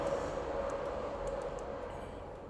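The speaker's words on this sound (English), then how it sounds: "The train's going by and it's extremely loud" A train rumbling past close by, a loud, sustained low roar with a steady tonal whine and scattered metallic clicks, easing slightly toward the end.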